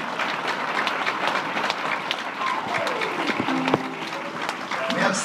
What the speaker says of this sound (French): nous demandons à la congrégation de les applaudir chaudement